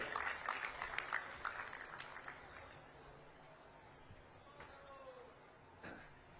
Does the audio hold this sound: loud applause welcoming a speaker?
yes